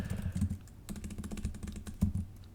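Quick, close typing on a computer keyboard, a soft irregular patter of key clicks with brief pauses, quiet and alone.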